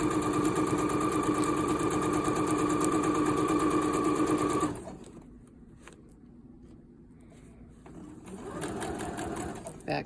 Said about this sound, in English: So put your foot down and keep on stitching.